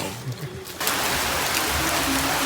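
Rain suddenly beginning outdoors, a dense hiss of falling drops that jumps up sharply and then holds steady and loud, with faint voices underneath.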